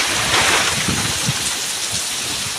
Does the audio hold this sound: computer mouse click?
no